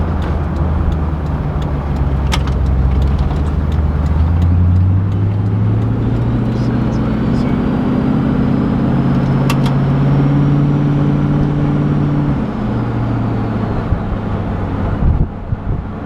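A tuned twin-turbo V8 Land Cruiser revs hard and pulls, its engine note climbing steadily with a faint turbo whine above it, loud and close throughout before easing off at the end.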